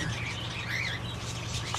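Several native Australian parrots chirp and twitter steadily over a low humming background, their calls high and overlapping, moderately close.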